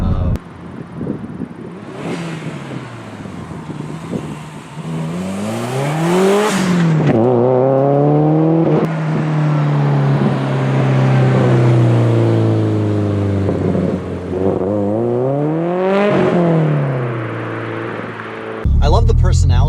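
A 400 hp Subaru WRX Bugeye with a swapped STi engine, running around 20.5 psi of boost, revs up and shifts repeatedly, its loud engine rising and falling close by while a voice talks over it.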